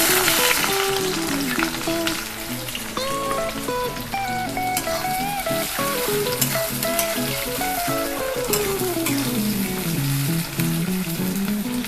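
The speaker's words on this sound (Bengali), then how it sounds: "তেল আমাদের গরম হয়ে গেছে, দিয়ে দেবো পেঁয়াজ," Onions fry in hot oil for a chicken dish, a loud, close, crackling sizzle with scraping stirs of a utensil, while a melodic tone drifts faintly underneath.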